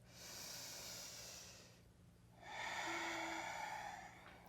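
Slow audible breaths during a power yoga flow for the abs: a long airy exhale, a brief pause, then a stronger hissing inhale, close and alone.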